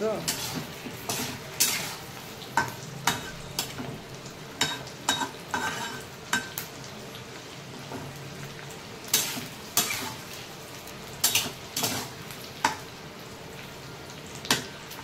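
Food frying lightly in a kadhai gives a steady, close sizzle, broken by frequent sharp clicks and scrapes of a utensil stirring against the pan.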